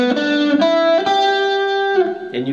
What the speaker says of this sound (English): basically we're going to walk up the E blues scale with this one